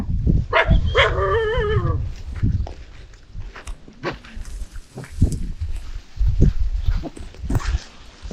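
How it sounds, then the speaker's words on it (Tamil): A pack of five or six dogs at a lone house in the forest, a close whining bark near the start, then scattered barks, footsteps and rustling under faint background noise. "கிட்டத்தட்ட ஒரு 5-6 நாய் இருக்கும் போல."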